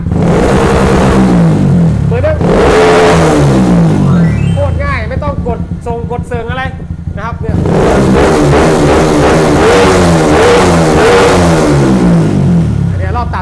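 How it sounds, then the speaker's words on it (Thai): A car engine is revved hard repeatedly, bouncing off a rev limiter set around 6,000 rpm on an Aracer mini ECU, with rapid stuttering cuts, loud and close, and a brief quieter idle between bursts. "ผมเบิ้ลผมเป่ารอบตามาเลยหกพัน มันก็จะตัดเลย"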